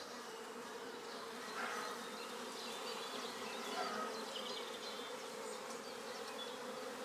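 Honeybees buzz around their hive in a soft, continuous drone, with individual bees flitting closer and fading in and out against the quiet hum.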